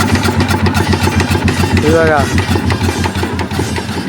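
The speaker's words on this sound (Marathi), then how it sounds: "चालू झालेला आता इंजिन।" Small fishing boat engine running steadily, a loud, continuous rhythmic chug with a brief rising whine partway through, while someone talks over it.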